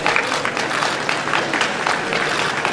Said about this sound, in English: That was Abe leading them in the clap.